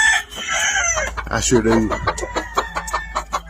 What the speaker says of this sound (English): These awful good chickens.